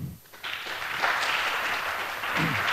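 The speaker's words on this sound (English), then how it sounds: "Give them a warm round of applause" Steady audience applause at a security conference talk on side-channel attacks, a broad wash of many hands clapping that swells after a brief lull and holds loud and even to the end.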